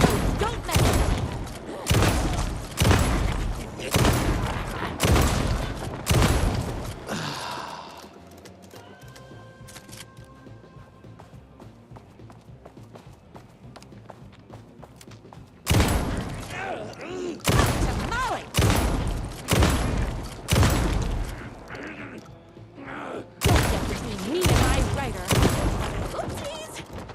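Loud, rapid bursts of gunfire from the video game Alan Wake 2 come in rhythmic clusters, drop to a quieter stretch with a faint hum and brief tones, then resume in repeated volleys; a voice speaks at times.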